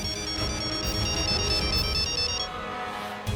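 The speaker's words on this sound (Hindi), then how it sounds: "फोन बज रहा है।" A phone rings with a repeating electronic ringtone melody, steady and fairly close, fading out near the end.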